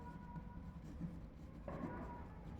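Pen or chalk writing out a Class 10 maths solution, a soft, steady scratching that runs quietly through the whole stretch over faint background hiss.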